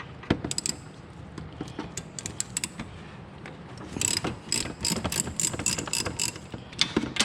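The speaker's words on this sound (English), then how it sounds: "So, loosen those. They are a 1/2 inch." A ratchet wrench loosening half-inch alternator mounting bolts on a 2003 Ford Explorer, rapid bursts of sharp metallic clicking in uneven runs with brief pauses, close and clear with no talking.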